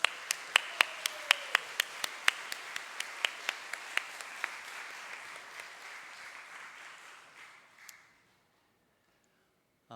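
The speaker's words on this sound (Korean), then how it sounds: "우리 축하의 박수 하도록 하겠습니다" A church congregation during a Sunday service claps in scattered, crisp hand claps that thin out and fade over several seconds, followed by near silence.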